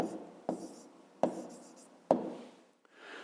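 Pen or marker strokes writing an answer by hand during a fifth-grade maths lesson: three distinct scratchy taps with short rubbing between them, close and quiet, with no talking.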